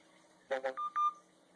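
A mobile phone gives a quick string of four electronic beeps, two broader bursts followed by two clear tones, close and alone in a quiet room.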